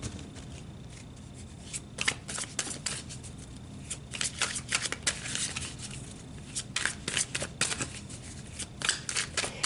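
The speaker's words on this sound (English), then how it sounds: "So let's pull some tarot and go a bit deeper." Tarot cards being shuffled by hand, close and soft, in irregular bursts of riffling and flicking over a quiet room background, with no talking.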